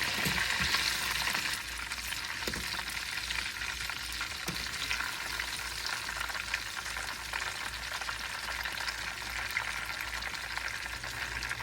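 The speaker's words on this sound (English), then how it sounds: "to stir it and flip it gently, making sure that the sausage is cooked through" Homemade Scotch eggs frying in oil in a pan, a steady dense sizzle with occasional scrapes and knocks as they are stirred and flipped gently.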